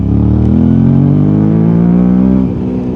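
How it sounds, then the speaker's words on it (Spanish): A Suzuki V-Strom 650 motorcycle pulls hard in second gear from around 4000 rpm, its engine note loud and close, rising steadily for over two seconds before easing off. "Yo abro el acelerador y la explosión que tiene esta moto es increíble, mira."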